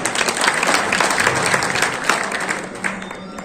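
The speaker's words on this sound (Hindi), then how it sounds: "आप जोरदार तालियां बजाने का काम करें" A crowd claps loudly and steadily at a Samajwadi Party workers' conference, a dense wash of applause that runs throughout without letting up.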